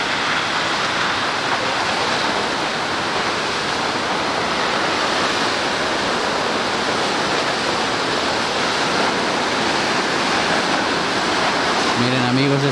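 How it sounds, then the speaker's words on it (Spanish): The Quetzalapan waterfall, seen from about 200 metres from its base, makes a broad, continuous roar of rushing water that stays loud and steady throughout, with a brief faint tonal sound near the end. "esta es una primera vista de la cascada de Quetzalapan a 200 metros de su base o de su caída."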